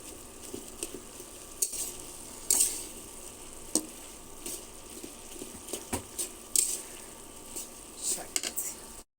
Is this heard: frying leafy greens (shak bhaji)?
yes